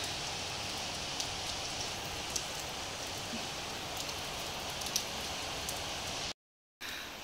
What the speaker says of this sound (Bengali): দেখুন কত বৃষ্টি হচ্ছে, খালি প্রচুর বৃষ্টি হচ্ছে।